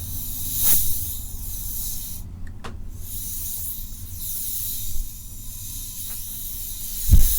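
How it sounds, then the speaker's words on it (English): Steady airy hiss of blown air sweeping close by, continuous for several seconds with a few brief bursts and soft clicks. "just going all around you, blowing off all the dust."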